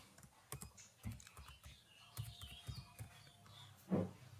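Keys clatter in irregular bursts as a folder name is typed on a computer keyboard, close and fairly quiet, with a louder thump near the end.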